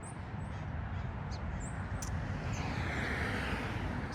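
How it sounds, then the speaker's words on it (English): Crows cawing at a marsh bird refuge beside a freeway and road, a few short calls over a steady, loud roar of passing traffic. "if you're a birder, it's well worth coming down here. You will find lots of birds."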